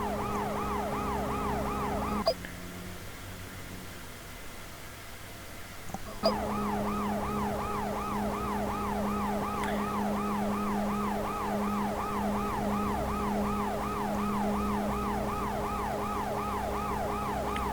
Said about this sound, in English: this ambulance following you likes to either fall behind like it's doing now, or get way too close